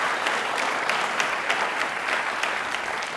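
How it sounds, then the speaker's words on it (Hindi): Audience applause at a televised college question-and-answer event in Jaipur, heard as a steady, dense wash of many hands clapping throughout, moderately loud with no voices over it. "प्लीज एक बार वापस से तालियां जोरदार होनी चाहिए इनके लिए"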